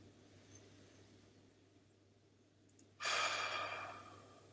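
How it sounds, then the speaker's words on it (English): A single deep breath during a calm morning prayer meditation, quiet low background at first, then a strong, close airy exhale that starts abruptly and fades slowly, with no talking. "Go ahead and close your eyes, turn within, take a deep breath."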